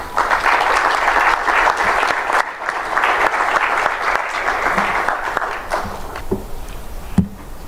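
A crowd at a religious gathering applauds loudly and continuously to welcome a speaker, the dense clapping holding steady before thinning into a few scattered claps near the end.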